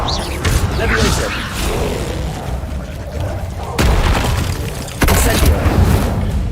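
The Levioso spell is cast in the Hogwarts Legacy video game amid a busy, loud combat mix of booming impacts and whooshing bursts, with two sharper blasts standing out near the end.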